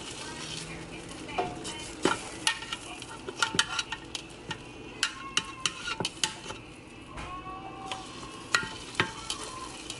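Ribs are turned over in an air fryer basket with utensils, giving scattered metallic clicks, scrapes and clatters over a low background hiss, close and intermittent throughout with no talking.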